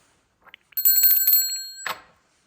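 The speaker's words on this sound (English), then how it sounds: "We got more bells here" Bells in an old manor house ring out bright and metallic, starting with a few light taps, then a sustained jangling ring that fades, followed by one final clang.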